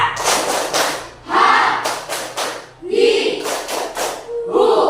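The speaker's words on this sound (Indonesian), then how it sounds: "tepuk tangan sekali lagi ya" A group claps their hands together in a classroom, dense bursts of applause swelling and pausing in waves, with brief voices between the rounds.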